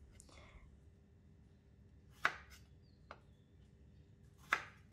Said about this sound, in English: Or cut them into round and thin slices, like this.